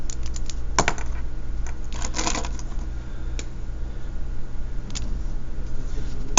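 Pen or marker strokes on a writing surface as powers of three are written out by hand, with a handful of short, close scratchy bursts over a steady low background hum.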